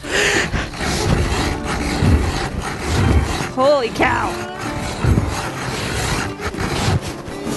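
A hand auger grinds through thick lake ice while ice fishing for bluegill, a steady rasping, scraping churn that rises and falls in loud uneven strokes close by, with people talking and exclaiming over it.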